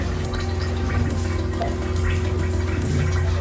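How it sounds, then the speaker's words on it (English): A boat's marine toilet on an Aquila 32 does a normal flush, a steady rushing of water filling the bowl with a low pump hum underneath, continuous and close. "So we'll do the normal flush."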